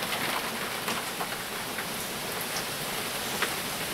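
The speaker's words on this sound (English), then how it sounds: "Now the rain is kicking in hard." Heavy rain pours down during a thunderstorm at an off-grid homestead, a dense, constant hiss of drops striking surfaces close by, with no thunder or voices breaking through.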